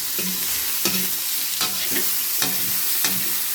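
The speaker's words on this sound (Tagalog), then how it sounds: "Tapos, dito ko igisa yung pakbet" Meat sautéing in hot oil for pakbet, a steady broad sizzle with a stirring scrape about every 0.6 to 0.8 seconds, close and fairly loud, with no voices.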